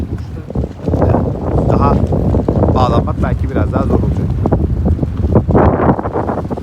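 Strong wind at a marina buffeting the microphone in a loud continuous roar while a person speaks over it.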